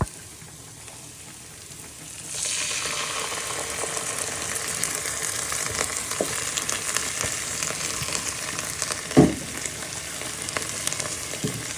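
Passata poured into a hot pan with sausage, a steady loud sizzle that starts abruptly and continues with small crackles and one brief clatter, no talking.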